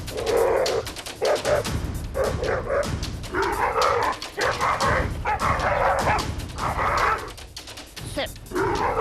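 A hunting dog stalking and attacking during a reenacted attack gives repeated barks, yips and whimpers, loud and close, with people talking over parts of it.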